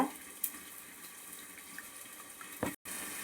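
Diluted tamarind water trickles and splashes as it is strained for a village-style fish kuzhambu, a faint continuous pouring sound with a brief louder splash and a short cut near the end, no talking.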